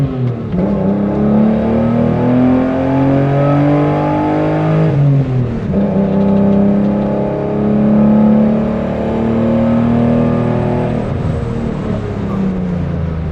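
Inline six-cylinder engine of a 1988 BMW E28 M5 pulling hard uphill, heard from inside the car as a loud continuous growl that climbs through the revs, dips at a gear change and builds again.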